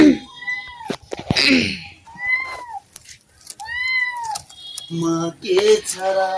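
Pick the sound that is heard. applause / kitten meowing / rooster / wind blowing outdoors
kitten meowing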